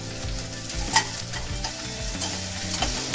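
Onions sautéing in a pan for Coimbatore arisi paruppu sadam: a constant close sizzle with rhythmic spoon strokes and scraping every half second or so, and a few sharper clinks, with no talk.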